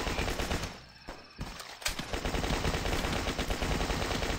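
Rapid weapon fire in the video game The Last Stand, a dense, continuous stream of shots with a brief lull near the middle, loud and close, no speech.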